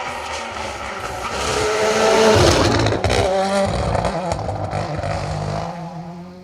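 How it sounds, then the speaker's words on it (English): A WRC rally car engine roars loudly nearby on an asphalt rally stage, revving hard and building to a peak before holding a rough, high-pitched howl as it speeds past. "I think that's got to still be one of the best sounding WRC cars,"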